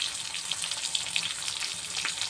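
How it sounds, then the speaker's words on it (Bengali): Fish frying in a pan gives a soft, steady crackling sizzle with small spitting pops, faint and close, and no voices. "বসিয়ে দিয়েছি মাছ ভাজতে।"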